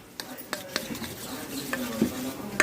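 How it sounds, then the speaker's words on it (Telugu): Spices, salt and garam masala are mixed in a pan with a spoon, producing close clinks and scrapes against the metal over a light sizzle, with faint background murmuring. "1 స్పూన్ గరం మసాలా బాగా మిక్స్ చేయాలి."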